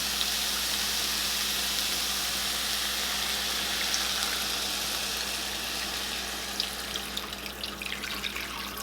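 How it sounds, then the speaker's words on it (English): Beef broth pours steadily into a pan of cooked ground meat for hamburger helper, a continuous close splashing wash that keeps an even level throughout with faint sizzle emerging near the end. "Alright, now I'm going to go ahead and add in our beef broth."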